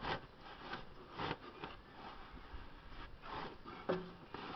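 Scrubbing a steering shaft on a Massey Ferguson 3305 tractor, heard as soft repeated rubbing and scraping strokes in irregular bursts, fairly close but quiet, with a couple of sharper knocks near the end.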